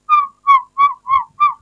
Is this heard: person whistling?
yes